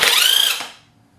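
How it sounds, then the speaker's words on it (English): A short, loud burst of an impact wrench removing the supercharger pulley bolt on a Pontiac Fiero 3800, a rapid rattling hammer that spins down and fades within a second. "I'm going to use an impact wrench just to test it out"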